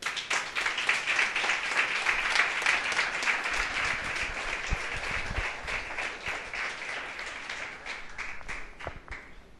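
A church congregation breaks into sustained applause, a steady wash of many hands clapping at moderate distance that holds for several seconds and slowly thins toward the end.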